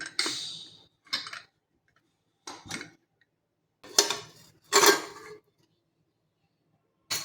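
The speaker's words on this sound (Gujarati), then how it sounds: "હવે આપણે કુકરનું ઢાંકણ ખોલી અને ચેક કરી લઈશું." A metal pressure cooker lid being opened after cooling, with kansar (sweet cracked-wheat dish) inside: several short, close clanks and clicks separated by brief silent pauses, no voices.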